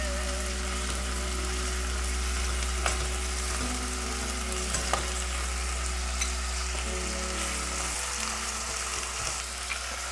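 Spring onion and ginger fry in a pool of oil in a pot, giving a steady, dense sizzle that holds evenly throughout, with small crackles and a low background hum underneath.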